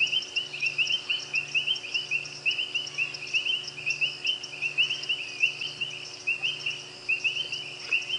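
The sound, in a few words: frogs croaking at night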